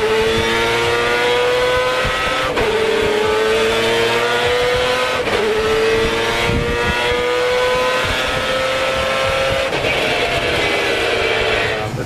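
A four-rotor Mazda RX7 engine with full peripheral porting screams at high RPM near 11,000, a loud, piercing, sustained wail that climbs in pitch in repeated surges, briefly dropping between pulls before rising again.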